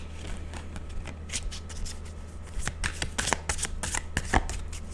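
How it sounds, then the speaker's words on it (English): Tarot cards shuffled by hand in a steady run of crisp riffling bursts, close up and fairly loud, growing busier toward the end, with no voices. "All right, Luna, I'm shuffling for you here."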